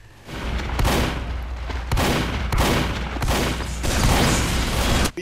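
Rapid shotgun blasts and gunfire in a video game medic match, a dense run of loud booming shots across the whole stretch with no talk over it.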